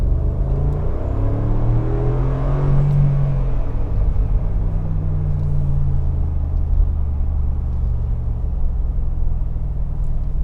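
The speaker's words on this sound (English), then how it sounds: "Let me put it into the sport mode and let's listen." A Mercedes G500 AMG G-Class engine in sport mode, driven on a snowy trip, gives a deep steady rumble with a low drone that swells around the middle as it revs and then settles, heard from inside with no talk.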